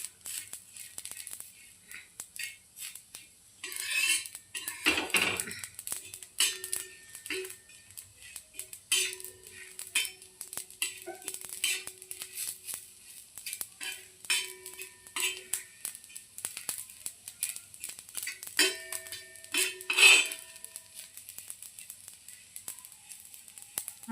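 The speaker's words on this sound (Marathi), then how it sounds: "छान खोबरं लालसर असं आपल्याला हे भाजून घ्यायचं आहे." Grated coconut is dry-roasted in a pan while a spatula stirs it, producing irregular light scraping and metallic taps against the pan. The sounds are close and intermittent over a quiet background, with brief louder clatters.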